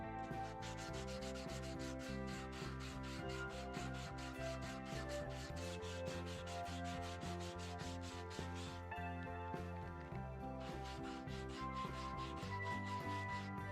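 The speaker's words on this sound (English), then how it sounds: "I use some sanding paper to give a little bit of round over to the edges to prevent tear out" Sandpaper rubbing along the edges of an oak window sill to round them over, a steady run of repeated strokes at close range, heard alone with no talking.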